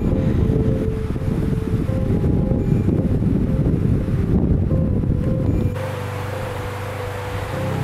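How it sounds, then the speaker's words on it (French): Mountain wind near the Tramezaïgues huts on a climb toward Pic de Pène Lounque: steady, heavy gusts buffet the microphone with a low rumble, then ease into a softer, lower roar for the last few seconds. "Un petit peu de vent aujourd'hui."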